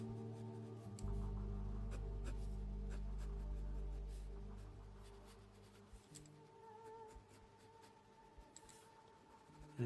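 A pencil scratches and rubs steadily on paper, drawing a thick trim around an eye in an anime-style sketch of Ichigo Kurosaki from Bleach. It sounds close and quiet, a continuous faint scraping with soft strokes and no voices.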